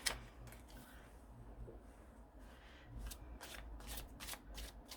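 Tarot cards from a Thoth-style deck are shuffled close by in soft, quick riffling bursts that grow busier toward the end, faint and without talk.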